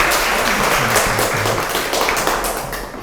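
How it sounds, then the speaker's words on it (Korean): Warm, dense audience applause welcomes a university medical professor to a public science lecture, loud and continuous clapping that gradually eases near the end. "큰 박수 부탁드립니다"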